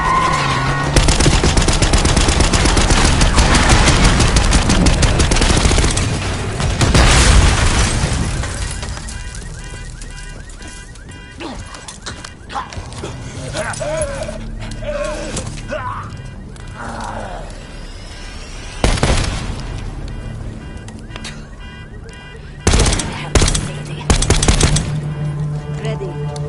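Gunfire from Call of Duty Black Ops 6 during a street fight with a limo approaching: loud bursts of rapid automatic fire and single sharp shots, dense at the start, sparser later, then renewed bursts near the end, with occasional voices in between.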